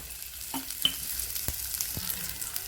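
Pirandai (adamant creeper) fries in oil in a small pan, giving a steady, close sizzle broken by a few sharp scraping stirs.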